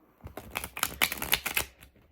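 A deck of cartomancy cards is shuffled close by, giving a quiet series of quick riffling, flicking card sounds in uneven bursts.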